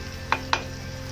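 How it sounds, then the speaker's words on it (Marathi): Masala with green chillies being sautéed and stirred in a pan for a mixed vegetable bhaji: a low, steady sizzle broken by two quick scraping clinks of a spoon, close by. "जरा व्यवस्थित परतून घेऊया मसाला"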